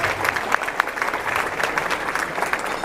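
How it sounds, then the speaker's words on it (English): Banquet guests at a veterinary association celebration applaud a platinum sponsor, steady, moderately loud clapping from a room full of people with a few sharper claps standing out. "Please give them a round of applause."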